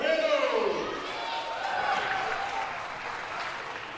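A crowd at a high school volleyball match between Roseburg and North Medford applauds in a dense, steady wash of clapping with scattered voices mixed in.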